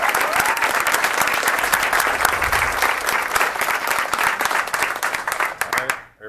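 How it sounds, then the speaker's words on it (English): A crowd applauds swimming champions from a high school varsity team at a school board meeting, steady loud clapping throughout before tapering off at the end. "Let's give them a round of applause."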